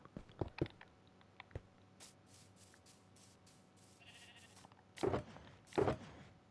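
Sheep bleat in a Minecraft wool farm, two loud bleats near the end after a stretch of soft clicks and quiet game ambience.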